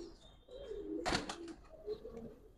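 A Giribaz pigeon, an old-line pallah breed, coos close by in a few soft low calls, with a short louder burst of movement in the middle.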